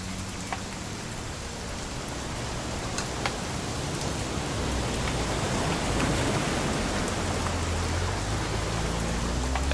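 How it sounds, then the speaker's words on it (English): Steady rain in a video game pours down in a dense, even hiss, growing slightly heavier, with occasional drops tapping nearby. "It's gonna rain the whole weekend, isn't it?"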